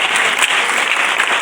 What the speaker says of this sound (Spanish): Alguien que lo crea le dé ese aplauso al Señor.